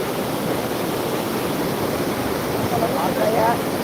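Water rushes through a burst lake embankment in a steady, broad roar. It stays loud and continuous, with a faint voice briefly audible near the end.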